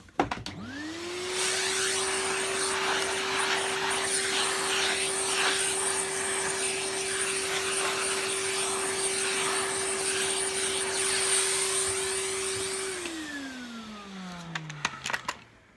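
Hoover Junior U1650 upright vacuum cleaner motor spinning up and running steadily with a loud, even drone for about twelve seconds before winding down, with a few clicks at the end.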